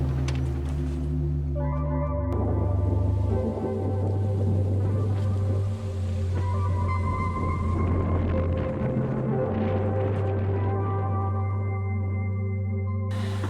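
A sailboat's engine motors out of a mountain-ringed anchorage, a loud, steady low drone with tonal harmonics that shifts pitch a few times as it runs, with no voices throughout.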